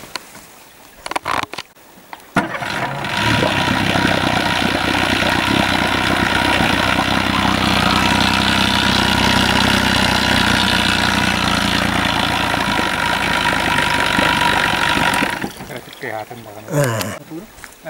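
An outboard boat motor runs steadily after a gearbox repair made in the field, a loud continuous drone holding for about thirteen seconds before cutting out, with brief voices and handling noise before and after.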